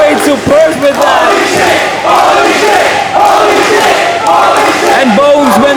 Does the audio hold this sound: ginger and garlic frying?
no